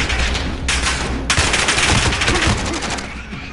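Dense bursts of rapid automatic gunfire fill a Call of Duty: Warzone match, loud and continuous with overlapping shots throughout.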